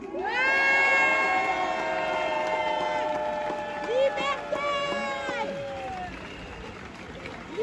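Audience cheering and shouting during a speech in French, a loud sustained crowd roar with whistles and raised voices rising and falling.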